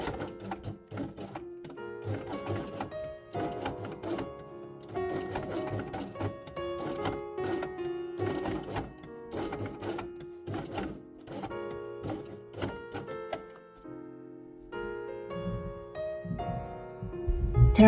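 A domestic sewing machine stitches loop-side Velcro along the edge of a fabric quiet book page, running in quick mechanical bursts with short pauses between.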